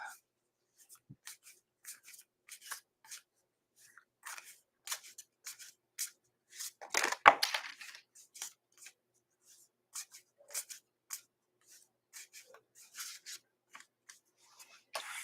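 Crisp papery riffles and rustles of cards being shuffled, in short repeated bursts with brief pauses, close and fairly quiet.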